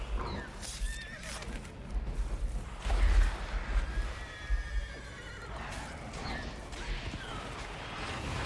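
Roach, a horse in The Witcher 3, neighs and whinnies loudly amid game sound effects, with clip-clopping hooves and clattering impacts layered throughout.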